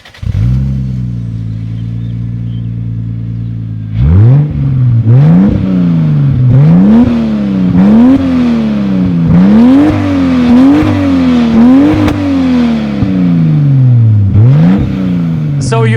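Toyota Supra MK4 sports car engine: a steady close idle, then repeated sharp revs that climb and drop in a rhythmic series, loud and raspy with exhaust crackle; some voices in the background.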